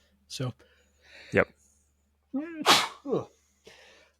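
One sharp, loud sneeze bursts out during a studio podcast conversation, with short bits of talk before and after it.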